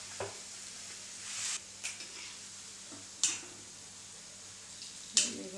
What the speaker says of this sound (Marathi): जरा वरूनच असं सोडायला लागतं, तेल तापलेलं असतं.